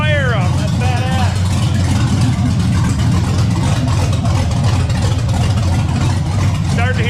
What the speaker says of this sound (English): We got a little idle action. First fire up, that's badass.